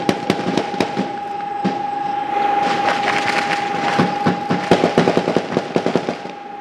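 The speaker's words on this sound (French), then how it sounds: "Ça tire ici, là!" Nearby gunfire in a combat zone, with sharp irregular cracks and bursts of shots over a constant loud tonal hum, some shots close and loud, others more distant, ending in a rapid cluster of reports.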